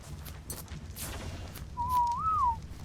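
A whistle command in the Ark dinosaur survival game: one clear, rising-and-falling tonal whistle lasting under a second, heard over faint ambient game noise and a few soft thuds.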